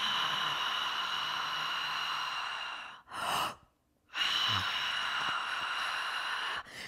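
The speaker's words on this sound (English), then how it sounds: "So it's like you're gulping in air." Gulp breath breathwork: long, loud breathy rush of air drawn and pushed through the throat, broken by a short sharp gasp and a brief pause, then another sustained hissing exhale, close to the microphone with no talking.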